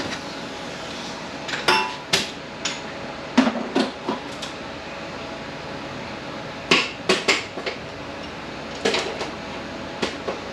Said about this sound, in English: pull this off and use the air hammer here.